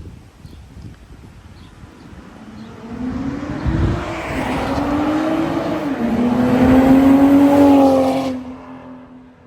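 BMW 540i sedan with a B58 engine and modified exhaust driving on the road, its loud exhaust note rising and climbing in pitch as it accelerates, then dropping off at the end, with no talk.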